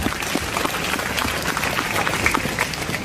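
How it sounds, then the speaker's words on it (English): An audience applauds teachers at a motivational speech, with steady, fairly faint clapping from a crowd lasting a few seconds and no speech over it. "a great round of applause for all the teachers who are working for the students here"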